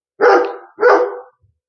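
A dog barks twice nearby, loud and rough, two quick barks in a row with silence after, outdoors in an off-grid setting.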